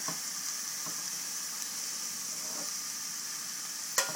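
Chickpeas with herbs sauté in a pot for curried chickpeas, giving a faint, steady sizzling hiss with a few soft clicks and no talking.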